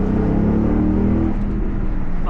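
Jeep SRT8 with a V8 engine, heard from inside as a loud, steady low engine drone that holds strong throughout, with a slight rise and fall in pitch.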